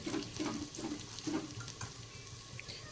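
Onion sautéing in a pan as red chili powder goes in, a close, steady sizzle with rhythmic scraping stir strokes for the first half before settling into a continuous fry.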